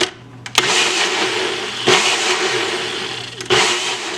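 A kitchen blender whirs through eggs, whole milk and whipping cream, a loud steady motor roar with three sharp surges as the speed kicks up, heard alone without talk.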